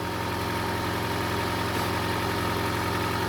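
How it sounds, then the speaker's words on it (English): An Alfa Romeo GTV engine idles steadily at close range, a low continuous rumble with a slight uneven wobble and no talking. "Engine sounds not too bad actually"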